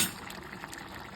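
Rice and water boil together in a cooking pot for vegetable biryani, giving a soft continuous bubbling and gurgling close by.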